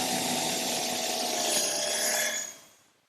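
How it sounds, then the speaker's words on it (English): A power drill bores a screw hole into a wooden support piece for a drop-leaf table in a woodworking shop, a steady close whirring drone that runs a little over two seconds and then winds down. "The first thing I want to do is drill a hole for this screw right here."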